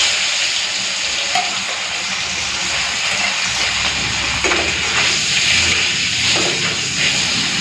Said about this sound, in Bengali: এই বেলে মাছগুলো ভেজে নিচ্ছি।